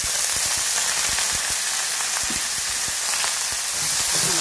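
Mung bean sprouts dropped into a hot frying pan, giving a loud continuous hissing sizzle with scattered crackles and pops, close up and uninterrupted, no speech.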